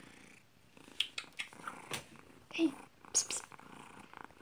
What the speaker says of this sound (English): If y'all can't hear, she is purring.